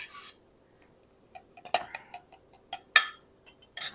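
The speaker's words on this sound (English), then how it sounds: "Stirring it with a knife" A metal knife scrapes and clinks against a dish while stirring carrots with oil and herbs, giving a quick series of sharp taps and clatters at close range with no voices.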